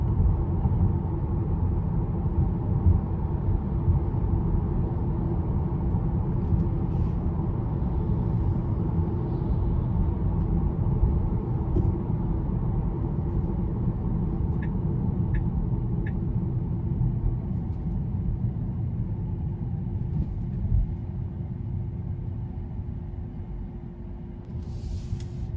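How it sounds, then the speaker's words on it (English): Steady low rumble of tires on pavement inside a 2021 Tesla Model 3 Performance, with a faint fan hum and a few light ticks, constant and enclosed, no talk. "mostly just the road noise. So the tires hitting the pavement."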